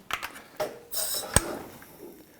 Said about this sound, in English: So we'll plug it in, standard air hose connection